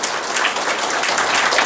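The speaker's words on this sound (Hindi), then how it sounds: "बजाओ ताली" An audience at a spiritual class claps in sustained, dense applause, steady and fairly loud throughout with no voices over it.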